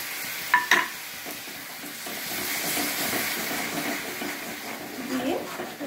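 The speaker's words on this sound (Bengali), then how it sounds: "আদা রসুন বাটা আর পেঁয়াজটা ভালো মতো কষানো হয়ে গেছে" Onion and ginger-garlic paste fry and sizzle in a pan as tomato paste goes in and gets stirred, a steady hiss with a couple of sharp clinks near the start and light scraping later, with no talk.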